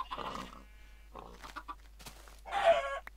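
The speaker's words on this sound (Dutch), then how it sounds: "Ja, ga lekker alle grote kippen doden." Chickens in the Minecraft video game cluck and squawk in short bursts, a few separate calls with brief gaps, clear and fairly close with no talking over them.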